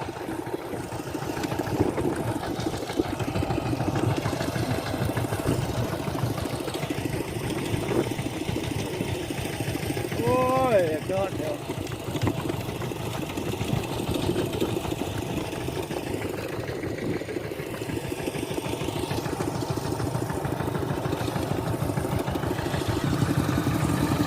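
Farm tractors run steadily as villagers plough fields, three or four machines at work, a continuous engine drone with chugging idle-like rumble that stays loud throughout, with a brief rising mechanical whine partway through.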